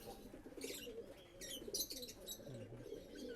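A Surma breed pigeon coos softly in low, rolling murmurs, faint and close, with a few chirps from other birds in the background.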